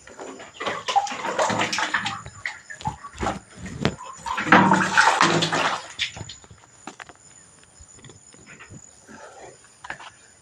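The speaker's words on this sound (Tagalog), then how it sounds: "Dito po ako mag-igib ng tubig." Water drawn from a well splashes and pours in uneven close bursts, sloshing louder for a stretch midway before tapering to softer drips and trickles.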